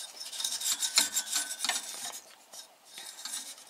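A brush scrubs dust from inside a desktop computer system unit with quick, dry, bristly rasping strokes in an uneven rhythm, close and fairly soft, with no talking.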